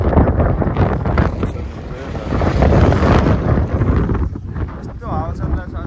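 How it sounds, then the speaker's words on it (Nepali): Strong wind gusts buffet the microphone beside the Bheri river near Salli Bazar, a loud continuous rushing roar with a voice talking faintly underneath. "यस्तो हावा चलिरहेछ आज।"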